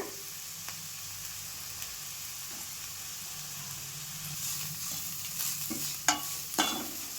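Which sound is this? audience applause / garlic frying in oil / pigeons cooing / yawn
garlic frying in oil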